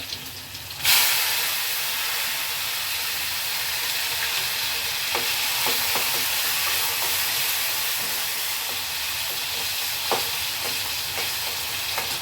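Tomatoes, cumin and chopped garlic sizzle in hot oil in a home kitchen, producing a loud, continuous frying hiss after an initial burst as they hit the pan, with occasional faint clinks.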